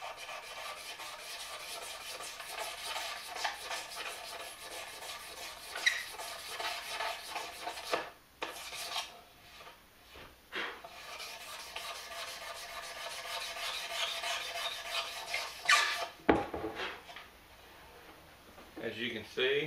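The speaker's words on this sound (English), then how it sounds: "Scraping here." A wooden veneer on a resonator guitar kit headstock is scraped with repeated rasping strokes, close and fairly quiet, with a few pauses and someone talking at times.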